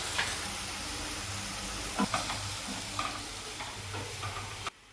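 Dill leaves sauté with chili powder in a pan, a soft continuous sizzle with occasional scraping clicks of a spoon stirring, close and fairly quiet.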